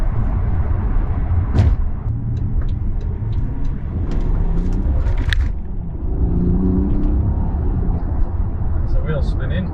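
A tuned BMW 530d with an N57N diesel, big turbo, intercooler and remap, accelerating hard in third gear around 40 mph with wheelspin, heard as a steady low engine rumble inside the cabin beneath someone talking.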